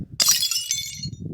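A glass object smashed to pieces: a sudden sharp crash followed by a bright tinkling scatter of shards that fades out, with faint low murmuring beneath.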